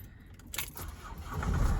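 A Renault Master III van is started with its key: keys jangle close by, then the engine cranks and catches, settling into a rising, steady idle rumble.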